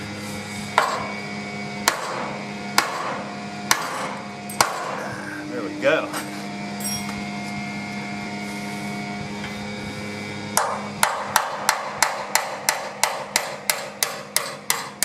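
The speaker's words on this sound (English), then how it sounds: "Need a bigger hammer." Hammer blows ring on a K5 Blazer's steel frame, single strikes every couple of seconds at first, then a fast run of sharp metallic hits near the end, with a few spoken words in between.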